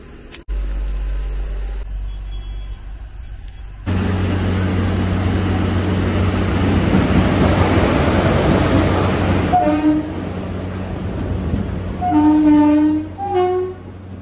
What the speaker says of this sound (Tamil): இப்போ தான் கோயம்புத்தூர் பொள்ளாச்சி அன்ரிசர்வ் ட்ரெயின் வந்துச்சுங்க